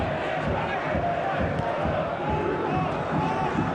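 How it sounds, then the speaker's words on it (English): A football crowd at Huddersfield Town versus Wigan Athletic in the FA Cup fifth round roars after a goal, a dense sustained stadium din with chanting voices, loud and unbroken throughout. "It's just got the crowd going again."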